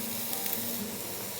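Carrot and onion sautéing in a pan for a breakfast sandwich give a steady, soft, close sizzle and hiss that continues evenly without talk.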